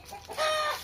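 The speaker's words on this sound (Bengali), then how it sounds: "মুরগি পালে" Chickens on a village farm cluck in a short, close burst, one bird giving a rising, drawn-out call that carries on alone without any voices.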